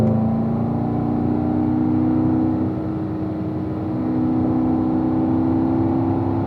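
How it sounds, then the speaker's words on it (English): A car engine accelerating on a race track, a steady loud drone with a sustained low engine tone that dips slightly midway, then builds again under the throttle, heard from inside the car with no talking. "Squeeze that throttle nice and smooth"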